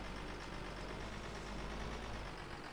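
A tractor engine idles in the Farming Simulator 15 video game, a faint, steady low rumble that holds constant throughout with no voices.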